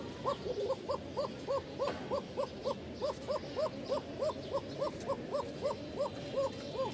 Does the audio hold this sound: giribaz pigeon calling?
yes